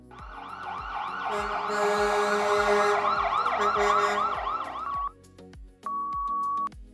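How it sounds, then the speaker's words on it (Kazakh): Fire engine siren wailing loudly and continuously in rising and falling sweeps, with a steady horn-like tone cutting in near the end before a brief pause and a final sustained blast. "Өрт сөндіру машинасының сиренасы."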